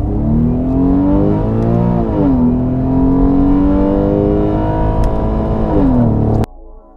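Porsche 911 accelerating in sports mode, a loud continuous engine roar that climbs in pitch, dips briefly, climbs again and then cuts off abruptly near the end.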